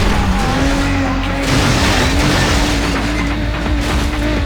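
Engines roar and tires squeal as racing cars weave through traffic in the video game Need For Speed: Underground, a loud continuous mix of revving motors and skidding.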